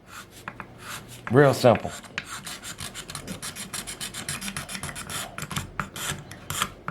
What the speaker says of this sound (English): I'm gonna come back with this razor blade and we're gonna clean the fretboard up now